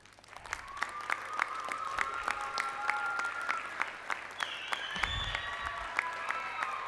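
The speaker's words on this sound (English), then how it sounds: "May I ask you to give them a loud round of applause." Audience at a multinational school's 2024 graduation claps for the teachers, steady applause filling the hall for several seconds with a faint tone running underneath.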